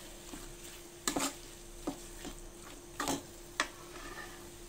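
Beef masala stirred in a pan over a low flame for beef piralan, a quiet soft hiss under a handful of distinct scraping clinks of a spoon against the pan, spaced irregularly.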